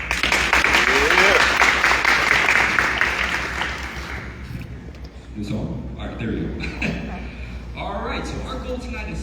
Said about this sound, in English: How about you give you guys yourselves a round of applause?